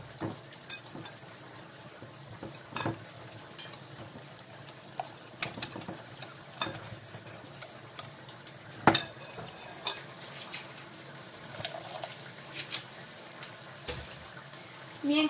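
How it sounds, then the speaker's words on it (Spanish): Sweet potato pieces are stirred in a bowl, making soft, scattered clicks and rustling knocks, quiet and close, with brief louder taps at irregular intervals and no talking. "Vamos a revolver así un poco."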